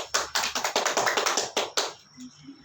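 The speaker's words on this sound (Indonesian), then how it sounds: "Kita berikan aplaus" Applause in a classroom for a student's answer: a short run of about a dozen quick, sharp claps at a brisk even pace, stopping after two seconds and leaving near silence.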